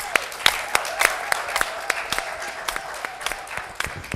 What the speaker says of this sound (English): Can we welcome them with a clap?